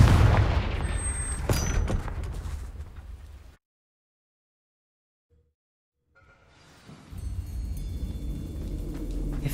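A Confringo explosive spell blast in Hogwarts Legacy, cast at spiders in a cellar, bursts as a loud booming impact, then falls to silence before rumbling ambience returns.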